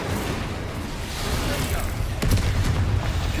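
Incendio fire spell cast in Hogwarts Legacy, a dense burst of roaring, crackling blasts that swells and hits harder near the end, loud and continuous with no gaps.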